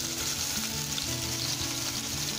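Close, steady hiss and crackle of oil sizzling in a pan for a fish curry, continuous and even for the whole moment with no talk.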